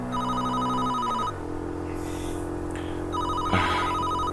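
A telephone rings with a repeating electronic tone that sounds in bursts, pauses briefly, then resumes, clear and fairly close with no speech over it.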